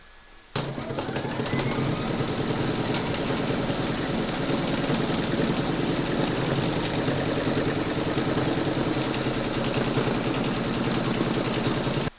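Embroidery machine stitching the quilting round of a medical alert bag tag, a steady mechanical drone with a rapid needle rhythm that starts abruptly and runs continuously and loudly to the end.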